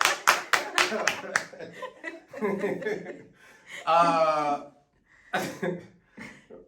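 A quick run of sharp, close hand claps opens the clip. Talking and chuckling follow, with a few scattered taps later on.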